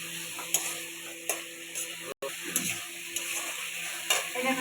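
Katla fish tail curry with its gravy and crushed chilli cooking in a pan, a soft continuous sizzle with intermittent clicks and stirring taps, close but quiet, briefly cutting out midway.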